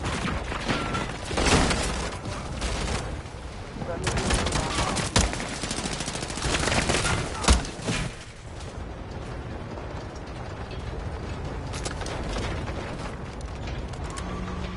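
Gunfire rattles in the Call of Duty Modern Warfare beta on PS5, with bursts of sharp shots and bangs, mechanical clacks and a louder crack near the middle, over steady game ambience.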